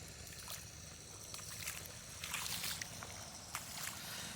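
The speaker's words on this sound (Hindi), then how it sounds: "हम पानी चला रहे हैं यहाँ पे ऐसा" Irrigation water running into a mustard field makes a continuous soft sloshing and trickling, fairly faint, with occasional splashier bursts.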